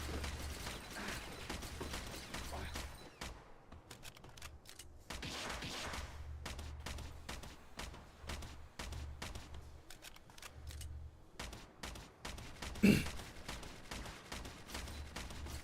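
Rapid bursts of gunfire in Palworld on PS5 rattle in dense, repeated volleys separated by short pauses, fairly faint and with little echo, over a low steady game hum, with one sharper crack near the end.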